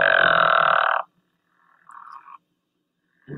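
A recorded frog call sounds loud and creaky, with one long rasping croak followed by a fainter, shorter call and the start of another, separated by silence.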